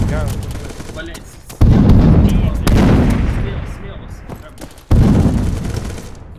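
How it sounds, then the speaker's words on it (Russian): Grenade blasts and gunfire ring out in a capture-the-flag shooter match: three loud, close booms with rattling fire trailing between them. "Кидай туда гранату."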